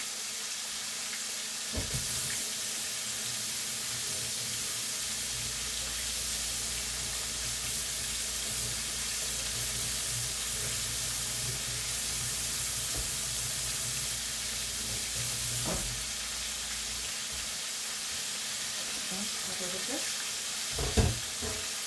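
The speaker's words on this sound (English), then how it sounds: "And I'll just let that one fry." Steady sizzling of food frying in a pan, continuous and close, with occasional clinks and a soft knock near the end.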